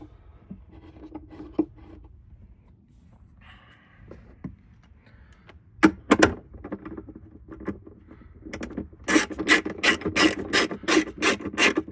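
A 13 mm bolt is tightened on the battery strap of a 2017 Porsche Macan GTS, with quiet handling first, then a run of rapid, loud ratchet clicks close by.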